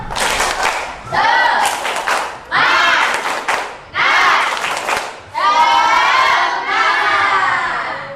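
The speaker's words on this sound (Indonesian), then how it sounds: "Tepuk semangat." Students in a classroom chant and clap in a rhythmic spirit clap, loud bursts of young voices and hand claps repeating in several rounds, each separated by brief pauses.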